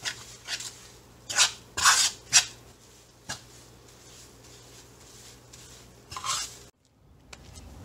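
Besan burfi mixture being mixed in a pan, several separate soft scraping strokes spaced irregularly over quiet background, fading out near the end.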